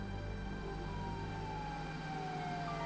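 A fire engine siren wails steadily for a few seconds, a continuous sustained tone over a low rumbling background with no talk.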